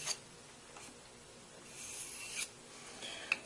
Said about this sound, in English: I'm holding that completely flat against the stone on the bevel.